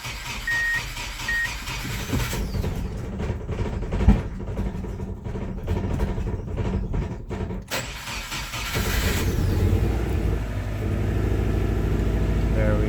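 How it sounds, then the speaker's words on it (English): A 1990s Subaru Impreza cranks and fires up after a clutch cable adjustment, settling into a steady close idle that grows louder near the end, with a warning beep early on and someone talking faintly over it. "All right, let's start her up."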